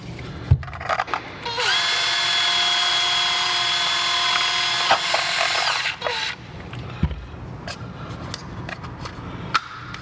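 A unibit step drill bit bores a hole in a powder coating hopper part, with a loud steady power-drill whine running for about four seconds, then stopping, followed by scattered clicks and handling noises.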